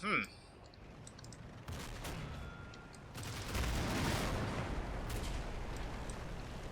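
Mortar fire and explosions in a military video game, with low booming blasts and rumbling bursts that swell in density and loudness across the stretch, continuous and moderately distant.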